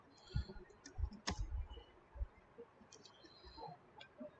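Faint, sparse key clicks on a computer keyboard during an IP address lookup, a few light taps spread out with soft low thumps in a quiet room.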